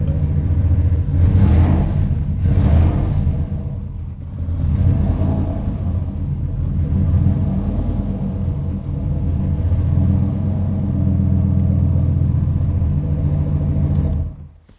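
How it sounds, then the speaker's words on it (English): A turbocharged V8 fitted to an older car rumbles loudly up close, with two quick rev blips followed by a sustained, wavering rise and fall of engine speed, and no talking. "I'm going to rev it up a little bit."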